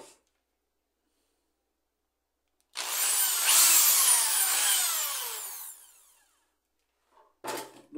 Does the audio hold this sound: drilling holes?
yes